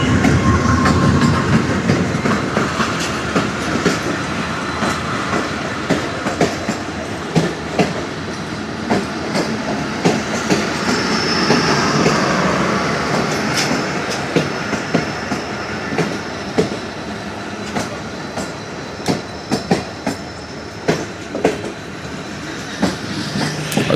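The 10 Down Allama Iqbal Express arrives at Sarhari station, a loud, steady rumble of rolling railcars with repeated clickety-clack wheel beats and occasional squeals running throughout.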